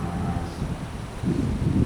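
Wind buffets the microphone in low rumbling gusts that swell near the end, with a faint airy hiss behind it.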